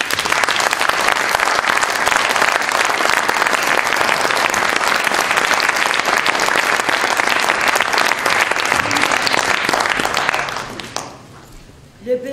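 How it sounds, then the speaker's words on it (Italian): Audience applause at an art academy event in L'Aquila, a loud sustained wash of clapping lasting about ten seconds before it quickly dies away, with a voice briefly heard at the end. "ex sindaco, Claudio Sarmento, voglio dare un applauso."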